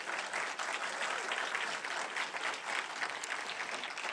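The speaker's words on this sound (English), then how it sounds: "So let's give him a round of applause" An audience at a talk by Dr Campbell on food and nutrition gives a round of applause, a dense, steady wash of clapping that stays loud and even throughout, with no voices standing out.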